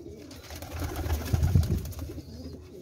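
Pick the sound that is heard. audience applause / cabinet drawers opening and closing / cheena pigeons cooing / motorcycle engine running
cheena pigeons cooing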